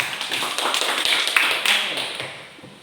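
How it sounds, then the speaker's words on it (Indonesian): Students in a primary school classroom give a short round of applause, a burst of quick, close hand claps that swells and then fades. "Ya, tepuk tangan."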